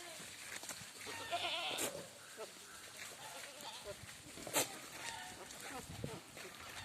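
Goats at a Kerala livestock sale, a small group of young bucks and a doe, give a couple of short bleats, one around the middle and another later, amid steady background noise and nearby talk.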